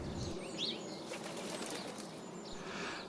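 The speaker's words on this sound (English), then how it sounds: "And here's a wood pigeon." A wood pigeon at a garden bird feeder flaps its wings in a soft, quick flurry over a steady outdoor background hiss, with faint bird calls nearby and no talking.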